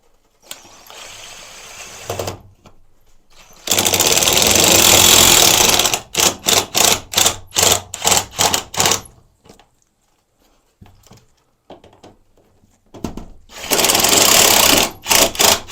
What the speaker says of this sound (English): and we'll just start screwing these guys in.